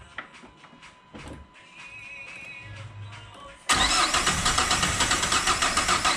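A car engine cranks over repeatedly after an engine swap, with two injectors thought to be missing, failing to catch; faint starter turning at first, then a loud, sustained rhythmic churning for the last few seconds.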